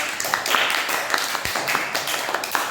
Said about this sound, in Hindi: चलिए ताली बजाइए सब।